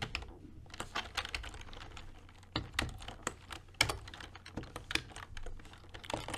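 Fast, uneven clicking of keys on a computer keyboard as code is typed, in quick bursts with short pauses. The sound is close and fairly quiet, and no one talks.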